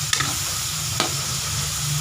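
Frying in a small amount of cooking oil, a loud continuous close sizzle with a couple of sharp utensil clicks, no speech.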